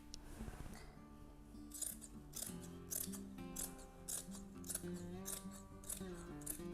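Scissors snipping through fabric for a watermelon-slice wedge pregnancy cushion, a steady run of crisp, close cutting strokes in quick rhythm, fairly quiet with no talking.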